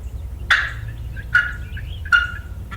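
A hand-operated turkey call imitates hen turkey sounds in three short, sharp yelps spaced under a second apart, close and clear over a low background rumble, with no talk.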